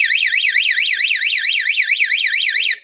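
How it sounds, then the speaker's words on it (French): A bank panic alarm wails continuously, a loud warbling electronic siren sweeping up and down in steady rapid cycles, then cutting off abruptly at the end. "je donne l'alarme"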